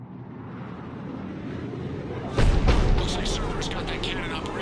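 Cannon artillery fires in the science-fiction video game Mass Effect 3, a single deep, booming blast partway through that rolls out over a sustained low rumble.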